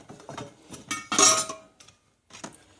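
Metal cutlery and dishes clink in a kitchen as a sharp knife is picked up, a few bright close clatters and rattles over about three seconds.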